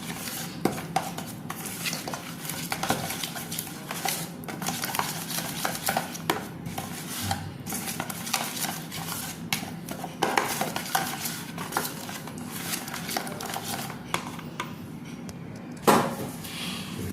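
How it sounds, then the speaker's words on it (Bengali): Raw green chillies and spices being stirred together with a spoon in a bowl for fish paturi, making continuous close scraping and frequent light metallic clinks, with one sharper knock near the end and no talk. "এবার সব মশলাগুলোকে আমি ভালো করে মিক্স করে নেবো একবার।"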